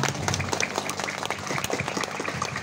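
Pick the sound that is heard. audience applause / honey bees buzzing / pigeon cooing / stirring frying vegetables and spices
audience applause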